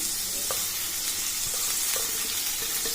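Fenugreek leaves fry with onion pieces in a pan, making a continuous close sizzle with occasional stirring scrapes and small pops, no talking.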